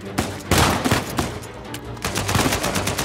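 Pistol gunfire in the video game Uncharted 4 crackles in rapid bursts of sharp shots, loud and close, with a few scattered cracks between volleys and no talking.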